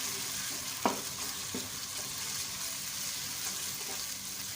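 Tomatoes lightly fry in a pan for aloo methi, a soft steady sizzle with a single sharp clink of a spoon early on and faint stirring, no talking.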